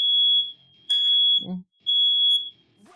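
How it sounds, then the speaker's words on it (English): Fire alarm sounding in short, loud, piercing electronic beeps, two long tones separated by pauses, with brief background noise between. "I think my fire alarm just went off"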